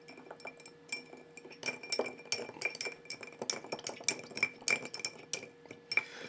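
A metal spoon clinks and stirs against a glass of Old Ezra 7 barrel proof bourbon on ice, a run of bright irregular taps and rattles of ice, close and fairly quiet with no talk.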